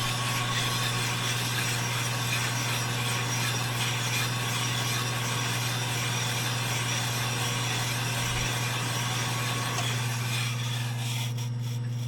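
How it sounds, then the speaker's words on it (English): A cylinder hone fitted with brand-new stones works inside a vintage snowmobile cylinder flooded with oil, giving a steady, continuous grinding rub with a low motor hum underneath that shifts slightly near the end. "we're starting to hone it, so I just flood it with oil basically"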